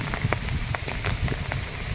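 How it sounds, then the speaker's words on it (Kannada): Steady rain pours down at the Rakkasakoppa reservoir, a dense close patter of drops striking water and hard surfaces, even and unbroken throughout. "ಮಳೆ ಸುರಿತಾ ಇದೆ"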